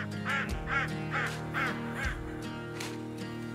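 A crow call blown during a bow turkey hunt sounds as a quick run of five harsh, nasal caws over a steady outdoor hum, followed by a fainter, distant call afterward.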